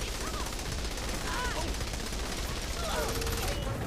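Gunfire in the Saints Row 3 video game crackles as a dense, continuous barrage under steady game noise, with brief faint voice-like sounds in the background.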